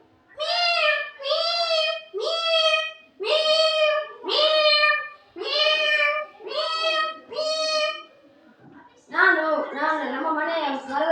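A child does a vocal imitation of a cat, giving about eight drawn-out, rising-and-falling meows in a steady rhythm, loud and close. A pause follows, then a harsher, rougher yowl at the end.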